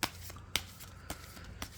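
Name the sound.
tarot cards being shuffled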